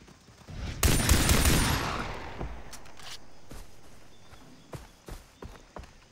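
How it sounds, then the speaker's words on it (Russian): A grenade blast in the jungle shooter Far Cry 3 erupts loudly and decays into a long rumbling tail, followed by scattered sharp gunshots and footstep-like taps that sound fainter and farther off. "Граната."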